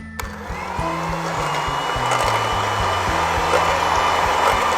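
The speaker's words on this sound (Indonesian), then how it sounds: "Telur utuh dan gula pasir kita aduk dengan kecepatan rendah saja" An electric mixer beats whole eggs and sugar at low speed, giving a steady motor whir with a low, stepping hum that holds at a constant level.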